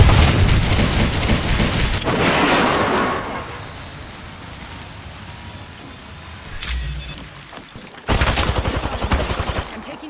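Gunfire in the video game Apex Legends, with rapid bursts of shots, booming impacts and a renewed volley near the end, loud and close.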